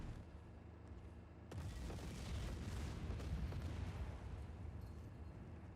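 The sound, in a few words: explosions in Just Cause 4 video game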